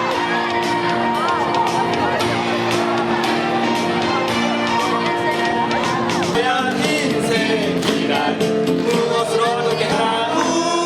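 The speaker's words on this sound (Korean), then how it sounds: "한복을 곱게 차려입은 선생님들이 나오자 아이들의 환호성이 터집니다" Children cheer and shout loudly as teachers dressed in hanbok appear at a school graduation ceremony; a dense, continuous crowd roar of young voices with whoops, joined partway through by music.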